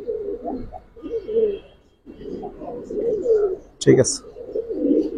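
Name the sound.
silver Giribaz pigeon cooing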